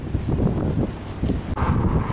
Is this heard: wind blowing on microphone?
yes